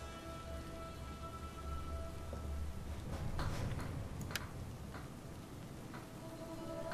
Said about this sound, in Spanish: Madre mía, lo que está lloviendo, ¿no?